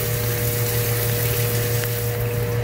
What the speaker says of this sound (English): when it hits the bottom, the water's kind of splashing up